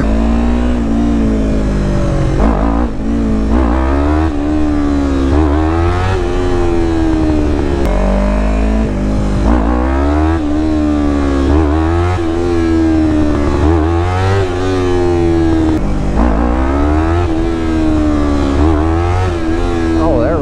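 R3 motorcycle engine revving hard through repeated wheelie attempts, the pitch climbing and dropping in cycles for about twenty seconds, loud and close with a rough low drone underneath.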